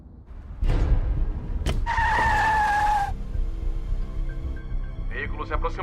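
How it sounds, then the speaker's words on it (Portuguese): A vehicle approaches and skids with a loud tire squeal in the middle of a police roadblock scene, followed by a short engine rumble and brief chirping sounds near the end. "Veículo se aproximando."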